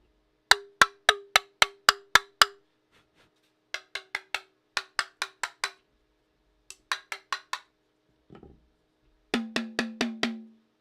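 3D-printed cymbals are struck in four quick bursts of ripping, clanky hits, each with a short dry ring; the final group sounds lower and fuller, and a faint knock falls between groups.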